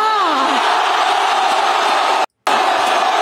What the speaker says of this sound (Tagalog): na-amaze ako doon sa sigawan ng tao